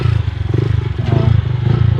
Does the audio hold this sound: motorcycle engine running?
yes